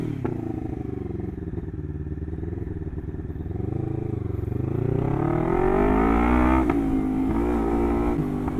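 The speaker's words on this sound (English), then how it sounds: "I know a lot of people are going to want to hear this bike with no baffle in it" A Lexmoto LXR380 motorcycle running with its exhaust baffle removed idles with a rough, loud burble, then revs up in rising surges that grow louder and harsher toward the end.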